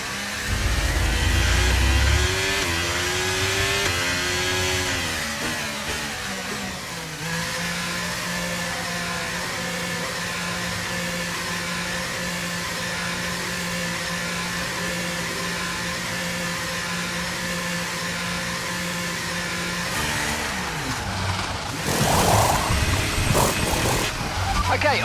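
Formula 1 car engine in F1 23 pulling away from a pit stop at Imola, a steady high-pitched drone holding for about fifteen seconds under a race engineer's radio voice, then swelling into louder revving near the end.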